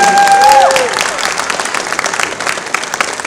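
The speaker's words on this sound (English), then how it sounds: "Everybody, big round of applause again." Applause and cheering from a convention audience at the opening ceremony of a British Invasion–themed furry event, dense and sustained throughout, with a brief whistle-like tone early on.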